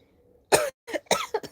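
A short burst of harsh coughs, one sharp cough followed by a quick cluster of smaller ones, close and alone.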